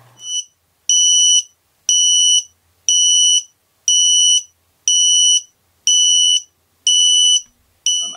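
A drone's lost model beeper, powered from a 4S LiPo balance lead, sounds loud and high-pitched over and over, eight long evenly spaced beeps about a second apart, each separated by silence.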